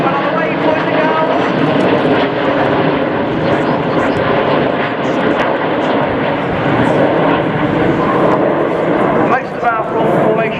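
Red Arrows jets roar loudly and continuously through a 2014 air display, a broad steady engine wash that swells slightly near the end, with a commentator talking over it.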